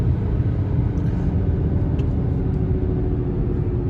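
Road and tire roar inside a 2016 BMW 340i with the B58 engine and large OEM tires at 180,000 miles, a loud, steady low rumble filling the cabin without pause and with no talking.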